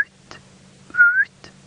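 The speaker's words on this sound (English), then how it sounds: "It's a soft little whistle." A small owl's soft, short whistled note rises briefly once amid quiet surroundings at sunset on safari, with a few faint clicks around it.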